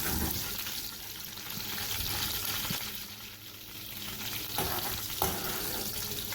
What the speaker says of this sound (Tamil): இந்த பூண்டும் வறுத்து எடுத்துக்கணும்